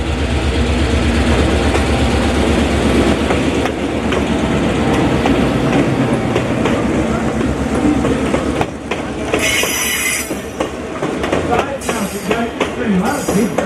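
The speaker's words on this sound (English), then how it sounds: "Here comes a train. It's a choo-choo train. Stone Mountain Express train thing." The Stone Mountain Express, a tourist train of about 350 tons, rolls past close by with a loud rumble and rhythmic clickety-clack of wheels. It fades after the passing, and bursts of wind or other noise break in near the end.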